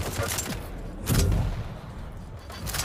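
Rocket launcher fire in Quake during a Dreamhack Tours 2018 match, with a loud thudding blast near the one-second mark amid a busy spread of weapon noise, fainter bursts before and after.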